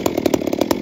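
Gas chainsaw cutting wood while milling lumber, a loud close engine roar with rapid pulsing chatter from the chain biting through the log.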